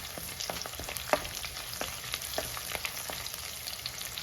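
Chilies and ginger fry in hot oil for a Kerala-style fish curry, a soft, steady sizzle broken by quick spoon clinks and crackling pops.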